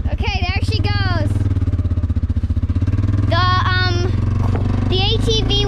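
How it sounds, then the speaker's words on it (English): An ATV engine revs and rumbles while it pulls a sled, loud and close throughout, with a child's excited shrieks rising over it in bursts. "The ATV will be stopping."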